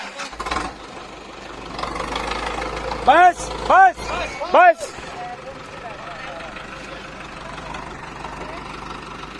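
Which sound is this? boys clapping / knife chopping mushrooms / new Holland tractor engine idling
new Holland tractor engine idling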